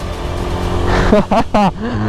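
Yezdi Adventure motorcycle engine revving while riding off-road through slush, with a steady engine drone rising into several loud, rough bursts of throttle up close.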